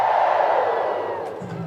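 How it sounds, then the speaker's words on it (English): A ballpark crowd at a Savannah Bananas versus Party Animals day game in Indianapolis lets out loud, sustained Ric Flair-style woos that slowly fade, with faint scattered claps at the end. "claps and Ric Flair woos send us to the 7th"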